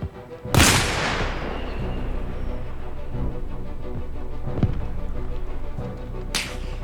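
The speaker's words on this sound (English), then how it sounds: "Oh, I'm getting shot at now." In a military video game set on Everon, gunfire aimed at the player cracks out as a sharp nearby shot followed by a long rumbling tail, then a fainter crack and another sharp report near the end.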